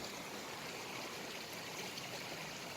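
Clean mountain stream water rushing steadily past a campsite, a dense continuous flowing hiss with no pauses, close and fairly loud, with no voices.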